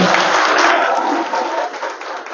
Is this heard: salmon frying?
no